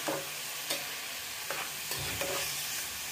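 Chopped bottle gourd frying in a pan, a soft continuous sizzle broken by a few light spatula stirs and scrapes, close but quiet.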